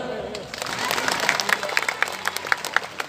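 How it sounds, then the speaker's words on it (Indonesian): A crowd of worshippers claps at a tablig akbar religious gathering in an Islamic boarding school in Amuntai, with dense applause and sharp individual claps standing out, while a voice carries on over it. "Tepuk tangan dulu."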